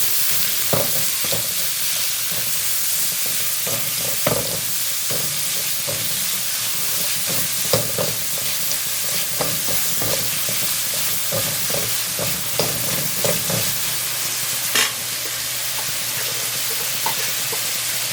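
Finely chopped small onions with a pinch of salt sizzle steadily in a pan, with repeated scraping stir strokes and clinks throughout and no talking.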